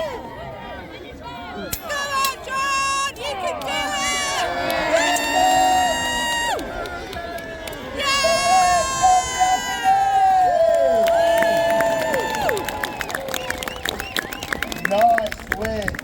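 Audience cheering, whooping and shouting at a medieval festival fight at Arundel Castle, loud and sustained with rising bursts, while an announcer's amplified voice calls over the crowd.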